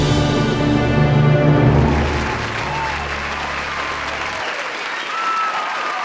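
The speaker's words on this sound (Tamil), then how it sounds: "உங்கள் கைத்தட்டலே" Sustained applause at an award ceremony, loud and dense, with music playing underneath at first before the clapping continues alone.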